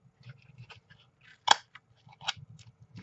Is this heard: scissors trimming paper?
yes